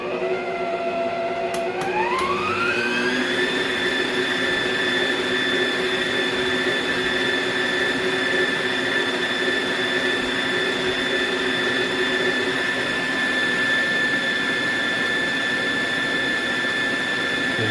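An electric hand mixer whirs through sweet potato pie filling in a home kitchen, a steady motor whine that ramps up in pitch over the first couple of seconds and then holds, loud and close, with no talk.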